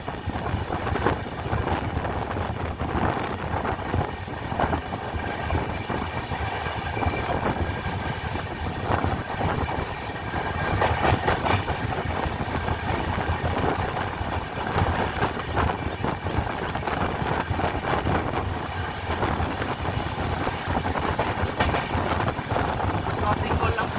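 The 12337 Howrah–Bolpur Shantiniketan Express runs along the line, a continuous loud rumble of wheels and rattling carriages with wind buffeting the microphone, steady throughout with occasional sharper clatters.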